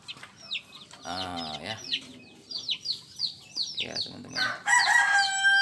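A white Japanese bantam rooster crows loudly and nearby, with hens clucking around it and a person speaking briefly between the calls.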